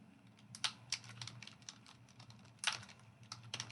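Light tapping on a computer keyboard, a few soft clustered keystrokes at an irregular pace, close and quiet with no talking.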